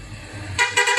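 Truck horns blare in a Himalayan traffic jam on a mountain road, two or three loud, close honks in quick succession over a low engine rumble.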